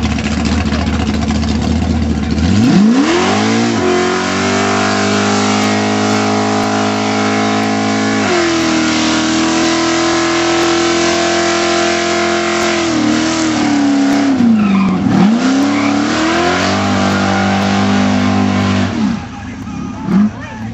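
Drag racing cars at a 2007 airstrip meet in Innisfail roar loudly as engines rev and accelerate, with the pitch climbing and falling through several sustained pulls at close range.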